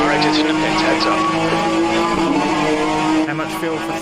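A race car accelerates out of the pits at Mont-Tremblant during an Alfa Romeo endurance race, its engine droning loud and steady at close range with slight tire noise, while a voice talks over it.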